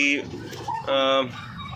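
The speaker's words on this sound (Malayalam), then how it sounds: "ഈ ജാക്കി പുള്ളിയാണ് അമ്മപ്രാവ് എന്ന് പറയുന്നത്." A pigeon in a loft gives a short, close coo, surrounded by a few other brief bird calls.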